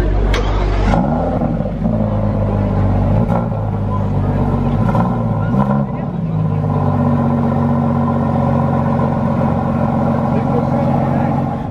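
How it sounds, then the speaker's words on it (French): A Jaguar F-Type V8 drives past on a Monaco street, its engine note rising as it revs, then settling into a loud, deep rumble that holds close by for the rest of the clip. "Petit Jaguar F-Type V8 XDR."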